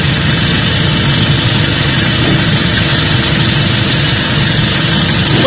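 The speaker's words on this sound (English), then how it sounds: "Oh, you got the car running." A car engine idles steadily nearby, a constant low hum with broadband noise and no voices.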